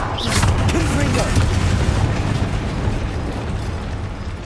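A Confringo fire spell blast in Hogwarts Legacy, a sustained loud booming explosion that rumbles and crackles for several seconds with dense low-end roar, no clear voice over it.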